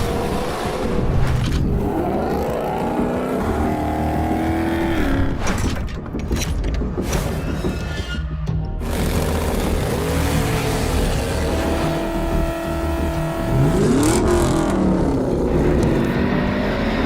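Dragster race cars at a Sunday drag racing event, loud roaring engines building and revving with sharp bursts and a rising launch whine near the end, close and dominant throughout.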